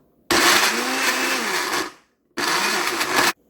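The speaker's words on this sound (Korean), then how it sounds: "갈아보도록 할게요." A blender grinding kimchi seasoning with a little kelp stock whirs loudly for about a second and a half, winds down, then runs again in a second short burst, close by.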